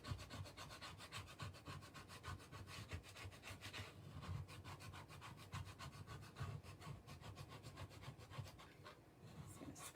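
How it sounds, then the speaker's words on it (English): A paste scraper is dragged across a chalkboard to strip off paste, giving a steady run of quick, rhythmic scratchy strokes that stay fairly quiet and close throughout. "This is a paste scraper. Paste scraper. We're going to scrape off the paste."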